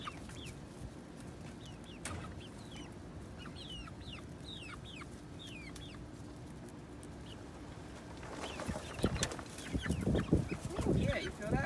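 Chickens cluck and chatter in scattered bursts around a heated coop on a cold day, with a steady rumble of wind that grows louder and gustier toward the end.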